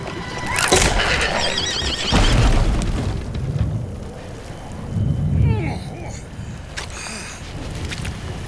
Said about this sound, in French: Les montures s'ébranlent comme les 4 chevaux de l'apocalypse dans la nuit zébrée d'éclairs